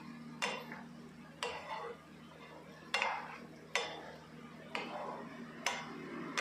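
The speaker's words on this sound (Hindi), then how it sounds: "ये स्टीम हो गई है हमारी वेजेस, तो इसको एक दफ़ा हिला के देखते हैं" Steamed mixed vegetables for paneer poha get stirred in a pan, giving about six separate scraping, clattering strokes at an even pace, close and moderately loud over a low steady hum, with no talking.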